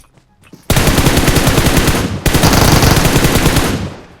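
Sustained automatic gunfire from PUBG Mobile, two loud rapid bursts with a short break between them, close and dominant with no talking over it.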